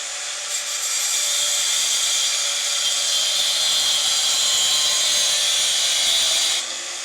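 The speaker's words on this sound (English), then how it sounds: "One thing to remember when you're using the grinder like this is don't put too much weight" An angle grinder working sheet metal while shaping a metal feather, a loud continuous high grinding whine held for several seconds, then cutting off near the end.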